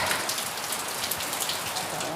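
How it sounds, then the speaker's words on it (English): Steady rain falling outdoors in New England, a dense even hiss of drops on surfaces, moderately close and uninterrupted. "It's raining now"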